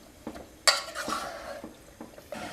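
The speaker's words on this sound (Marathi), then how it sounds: "हे 7 ते 8 मिनिट आपल्याला परतवायचं आहे आणि फ्लेम हायच ठेवायचे परतताना मटण" Mutton is sautéed and stirred in a pan over a high flame, with a sharp metallic scrape and clatter of a spoon against the pan followed by a few lighter knocks and soft stirring sounds.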